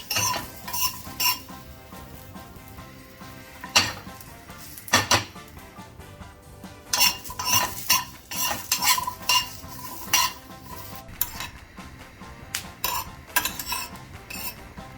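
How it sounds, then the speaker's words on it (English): Garlic, ginger and fresh turmeric dry roast in a pan, with repeated sharp clatters and scrapes of a utensil against metal over a faint low sizzle, irregular and close, no talking. "Dry roast it until you see nice charred mark on it."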